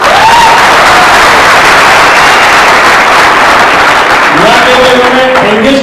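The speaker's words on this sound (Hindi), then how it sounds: "मैं चाहूंगा कि उनके लिए ताली बजाएं।" A large audience claps continuously for an event anchor, a dense, loud wash of applause that holds steady throughout, with a few voices rising faintly near the end.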